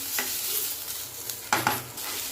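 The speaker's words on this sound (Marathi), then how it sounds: "याच्यामध्ये आता टोमॅटो टाकून घेऊया हे पण छान भाजून घेऊया मऊ होईपर्यंत" Tomatoes and onion frying in a pan, a steady sizzle with a few sharper scrapes of stirring near the end, close and alone with no talk.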